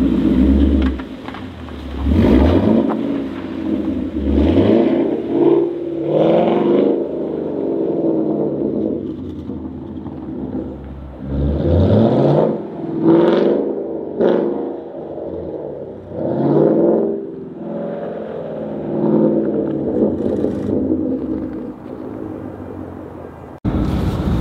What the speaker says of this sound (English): we're gonna try to just drive the Mustang in a little bit of snow and see what happens